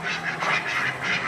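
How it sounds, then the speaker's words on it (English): Farm ducks give a dense, continuous chorus of overlapping quacks for a brief moment, steady and fairly loud. "And our ducks."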